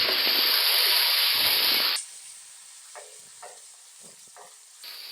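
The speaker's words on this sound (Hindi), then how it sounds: "पंद्रह से 20 सेकंड हमने लहसुन अदरक के पेस्ट को फ्राई करना है।" A tablespoon of garlic-ginger paste hits browned onions in a hot pan for matar pulao, giving a loud, dense sizzle for about two seconds that then drops to a much quieter, sparse crackle.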